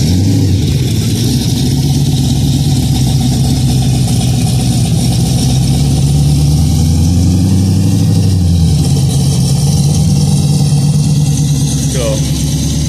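A 1968 Barracuda Formula S with a 496 engine idles steadily with a low, even rumble throughout, loud and close, with a slight shift in pitch partway through.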